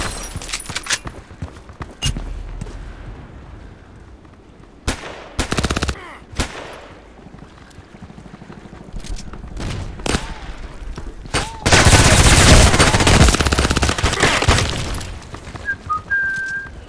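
Kedr SMG gunfire in the online shooter Contract Wars, with bursts of shots in separate clusters and a dense, loud stretch of rapid fire near the end, plus some sharp whistling game effects.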